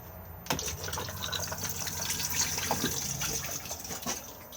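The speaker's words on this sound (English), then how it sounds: "Push to flush just here." A Thetford cassette toilet in a Benimar Tessoro T483 motorhome flushes with a sudden rush of water that carries on as a steady, close gush for several seconds.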